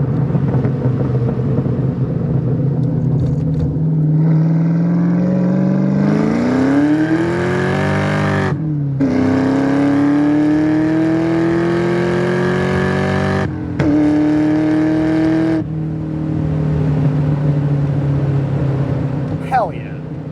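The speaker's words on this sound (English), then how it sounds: "We'll downshift. We'll do a little second gear pull here on this fresh blacktop." A 2003 Ford Mustang Cobra engine revs up hard through a long second-gear pull on fresh blacktop, its pitch climbing steadily, briefly dipping at a shift, then rising again, loud and close.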